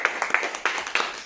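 An audience claps in a short burst at a motivational talk, several distinct sharp claps spaced unevenly across roughly a second, fairly close and moderately loud.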